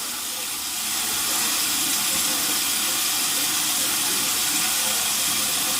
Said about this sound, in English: Rinsing in cold water, no worries.